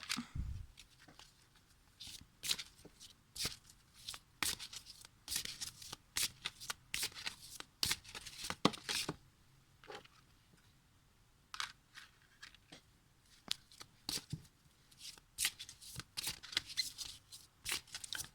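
Oracle cards are shuffled by hand in repeated crisp riffles and flicks, uneven bursts spread across the whole stretch, close and soft, with no voice over them.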